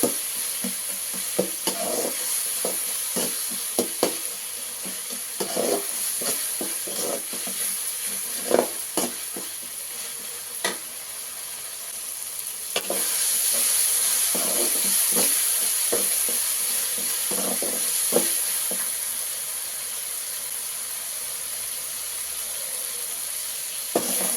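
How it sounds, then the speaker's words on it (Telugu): Ginger garlic paste fries in a pan with a constant loud sizzle and hiss, while repeated scraping stirs and knocks of a spoon recur throughout, without speech. "ఈ అల్లం వెల్లుల్లి పేస్ట్ పచ్చి వాటిలో పోయినంత వరకు బాగా వేయాలండి"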